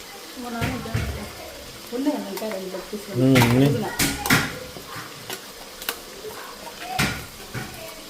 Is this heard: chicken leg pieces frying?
yes